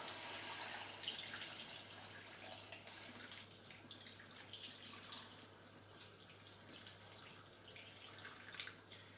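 Steady running water splashes and trickles into a pan for several seconds, faint and continuous.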